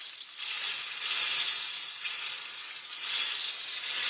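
Water poured into a hot pan during breakfast cooking, giving a loud, steady hiss and sizzle that holds for several seconds with no talking over it.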